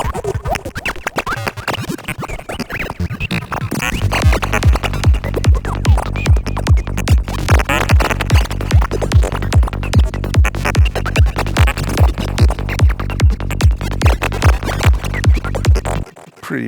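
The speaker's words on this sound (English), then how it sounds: "Now, Psychedelic Jungle." The Psychedelic Jungle preset on the Sylenth1 synthesizer, starting as a busy, crackly texture, then locking into a loud, steady pulsing bass pattern with a bright layer repeating evenly until it cuts off near the end.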